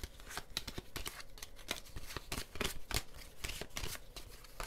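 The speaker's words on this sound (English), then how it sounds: "I feel like I need to shuffle them." Tarot cards being shuffled in rapid riffling bursts, a dense run of crisp papery flicks and taps that continues steadily throughout, close and fairly quiet with no voices.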